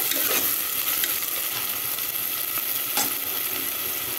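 Mutton curry ingredients sizzle and fry in a pan while being stirred, a steady close hiss of hot oil with occasional scraping clinks of the spoon against the pan.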